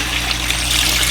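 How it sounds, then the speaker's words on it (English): Very hot water pours steadily into a pot of browned chicken after the grease has been drained, a continuous close trickling splash with no pauses. "What we're going to do is just add some really hot, just water, okay?"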